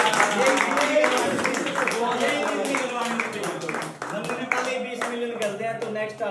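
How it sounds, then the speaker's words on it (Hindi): Several people clap along in quick irregular bursts while someone speaks cheerfully over them, the hand claps sharp and close, loosening and fading toward the end. "ताली बजा दो"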